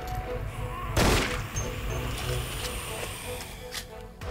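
Pistol shots from the zombie shooter Dead Effect on PC, a loud sharp report near the one-second mark over a steady game soundscape, with faint sounds later on.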